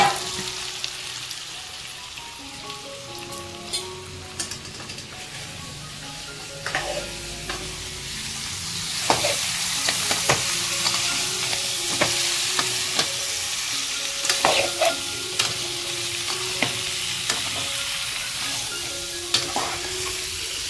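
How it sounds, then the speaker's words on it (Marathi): Crabs tipped into a hot pan crackle and sizzle loudly as they fry, with frequent sharp spatula scrapes and clacks from stirring over a continuous hiss. "त्यानंतर टाकूया डायरेक्ट आपण ही सगळी चिंबोरी."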